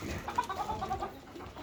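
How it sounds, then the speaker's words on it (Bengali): Chickens and several roosters cluck in a short burst of close, overlapping calls, a run of bright notes bunched in the middle of the clip over soft farmyard background. "দেখো মুরগিগুলো। এই যে মোরগ, বেশ কিছু মোরগ আছে"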